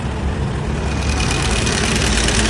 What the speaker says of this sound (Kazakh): Мотор обычно таза істеп тұрады осылай.